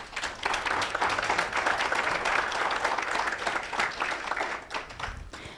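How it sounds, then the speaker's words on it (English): A room full of people at an AI town hall discussion in Kenya claps steadily, a thick continuous patter of applause that holds for several seconds before tapering slightly. "So a round of applause to them."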